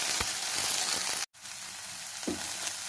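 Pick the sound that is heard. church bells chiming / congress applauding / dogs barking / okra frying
okra frying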